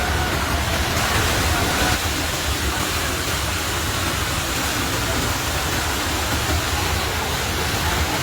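Floodwater from a flash flood rushes through a village in Dompu, carrying mud, wood and debris. The roar is loud, steady and broadband, unbroken for the whole stretch, with no voices over it.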